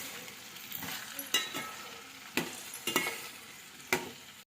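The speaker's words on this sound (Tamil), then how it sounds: "நல்லா காய்கறியோட பச்சை வாசனை போகிற அளவுக்கு வதக்கினா போதும்." Vegetables sauté in oil in a pan for wedding-style sambar, giving a soft, steady sizzle. A spoon scrapes and stirs through it in several sharp strokes, close and fairly quiet, with no voices.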